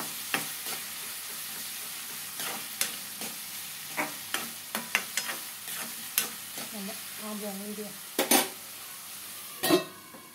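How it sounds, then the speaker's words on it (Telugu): Gongura leaves are tipped into a pan of frying onions: a steady sizzle runs throughout, broken by repeated scraping stir strokes and sharp utensil clinks against the pan, with a louder clatter near the end. "ఉల్లిగడ్డలు తాలింపు వేసినాక మగ్గలు ఇచ్చినాక ఇది గోంగూర పెడుతున్నా చూడండి."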